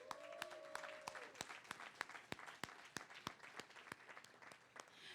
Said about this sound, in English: So I want to give Oaklanders a round of applause.